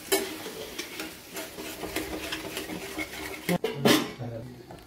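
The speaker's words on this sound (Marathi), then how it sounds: "आता आपण हे सतत असं हलवत राहायचं आहे कोरडं होईपर्यंत" Egg bhurji being stirred in a pan over low heat, with a steady soft sizzle and repeated scraping strokes of a spatula, plus a couple of louder clinks of utensil against pan near the end.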